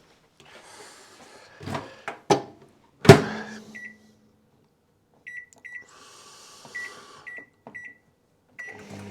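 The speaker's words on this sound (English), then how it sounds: "stick it in the microwave for about 40 seconds to a minute" Microwave oven heating a jar of Skippy peanut butter: door clunks and button presses, then a quiet hum with a series of short high beeps, close by and without speech.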